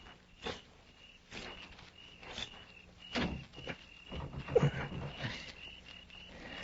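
A door being tried and rattled in a 1952 Western radio drama: several dull knocks and rattling clatters spaced irregularly, fairly close, over faint background hiss with no talk.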